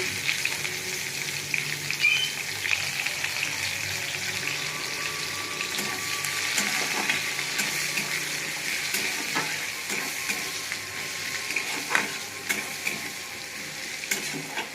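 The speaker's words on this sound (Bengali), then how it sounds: "ভাজা ভাজা করে নেবো পেঁয়াজটা।" Steady sizzling and crackling of chopped onions frying in hot oil with black cumin (kalo jeera), with occasional scrapes of a spatula stirring, continuous and close.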